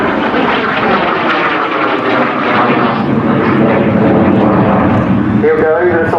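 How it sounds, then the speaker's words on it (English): A Folland Gnat jet roars loudly overhead at an air day, climbing into a half Cuban, its engine a broad, continuous rushing blast that fills the whole clip beneath an announcer's commentary. "Gnat just pulling up in front of your eyes now into a half Cuban."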